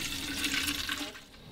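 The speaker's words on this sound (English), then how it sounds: "So I usually just water from the top" A potted plant watered from the top, giving a continuous gentle splashing pour that is close and moderately loud before tapering off toward the end, with nobody speaking.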